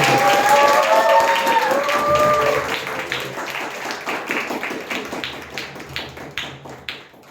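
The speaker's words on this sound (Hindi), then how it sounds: "क्यों नहीं जोरदार ताली देते हैं?" Audience claps for a cricket team that won a cup, starting as a loud dense round of applause with voices, then thinning into scattered, slower individual claps as it fades.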